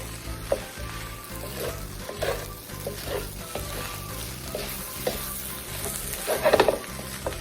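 Shrimp fried rice with green onions sizzles steadily in a hot pan, with rhythmic scraping and tossing strokes and a louder clattering toss near the end; no talking.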